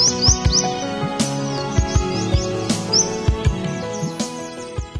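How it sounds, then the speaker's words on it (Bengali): Sunbirds in the forest of Kadigar National Park give quick, thin, high chirps in short repeated bursts, heard over steady background music. "মৌটুসি পাখির কিচিরমিচির ডাক নবছন্দের সূচনা করে।"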